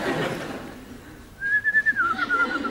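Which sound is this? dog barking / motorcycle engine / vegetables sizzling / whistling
whistling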